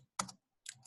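A few computer keyboard keys are pressed, close and quiet: one soft double clack, a pause, then two more quick taps.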